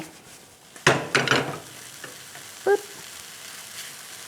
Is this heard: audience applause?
no